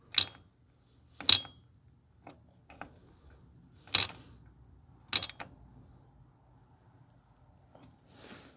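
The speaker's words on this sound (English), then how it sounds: "And then continue tightening up the brake line until it stops." A wrench tightening a brake line fitting, heard as sparse close metallic clicks and creaks, several sharp ticks spaced a second or so apart with softer scrapes between in a quiet room.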